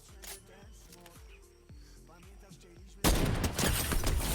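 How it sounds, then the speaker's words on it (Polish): Video game gunfire as a player shoots through bushes in Fortnite, a burst of rapid shots followed by a louder, denser stretch of firing, with a voice talking over parts of it. "Chłop przez krzaki strzela."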